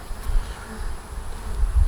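Honey bees buzz in an opened beehive, a loud continuous drone close by that holds steady throughout with no voices.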